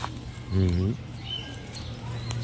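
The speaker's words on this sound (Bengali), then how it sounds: "দর্শক আমরা এই দুইটা কবুতর দেখি" Pigeons in a breeder's loft, including giribaj and colored fancy breeds, give a brief low coo near the start, heard over a steady background hum and faint distant sounds.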